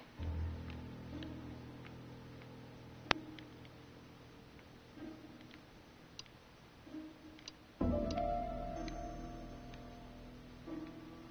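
A clock in a mystery video game, with a sheet of paper jammed in it, gives soft, sparse ticks over a quiet hum, with a few sharper clicks and a low shift in the background partway through.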